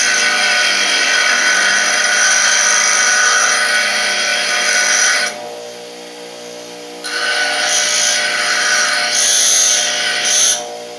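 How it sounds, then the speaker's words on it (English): A power tool grinding down a metal wrench, a loud harsh high-pitched whine that cuts out briefly, winds down, then restarts with intermittent bursts of grinding. "Maybe I need to grind my wrench down a little bit more"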